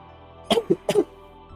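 Two short, close coughs in quick succession, each a harsh double burst, with quiet before and after.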